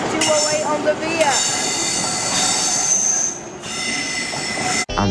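Passenger train moving through York station with power car 43208 at the rear, wheels squealing loudly and steadily over the rails for several seconds, with a brief dropout near the end.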